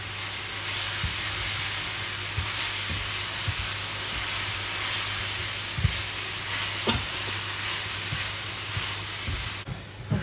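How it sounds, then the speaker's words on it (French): Mushrooms, about 500 g, cooking gently on low heat in a pan, a steady broadband hiss and sizzle that holds evenly throughout, with a few soft utensil taps, and no voices. "Je laisse cuire à feu doux au moins 15 minutes."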